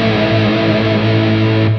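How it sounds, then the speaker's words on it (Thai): A short burst of heavily distorted electric guitar, a sustained chord ringing loud and thick before cutting off at the end. "ต่อมามาดูกันที่เสียงแตกเลยนะฮะ"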